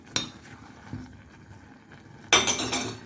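Oatmeal being stirred in a pot together with chopped apple and sugar, a spoon clinking against the sides in a few sharp taps, ending in a louder burst of scraping and clattering.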